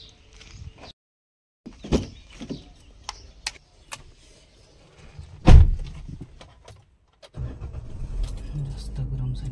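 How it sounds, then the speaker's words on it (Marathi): A parked car is handled nearby: a few clicks and a heavy door thud, then the engine starts and settles into a steady low idle, with someone talking in the quiet gaps. "चावी घेऊयात आणि चला गाडी सावलीत लावूयात।"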